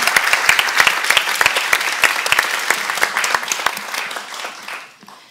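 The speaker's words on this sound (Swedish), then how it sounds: "En applåd." Audience applause at a panel talk with company CEOs, a dense burst of clapping from a full room that stays loud for about four seconds, then thins out and fades to near silence.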